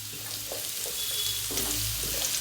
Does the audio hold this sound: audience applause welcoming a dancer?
no